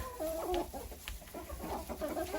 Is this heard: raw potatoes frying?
no